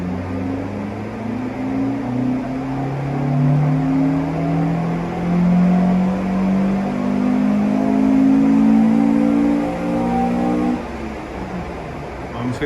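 A Mk2 Ford Escort powered by a Vauxhall C20XE red top engine revs on a dyno, its note climbing steadily through a long pull for about ten seconds before dropping off, loud and close.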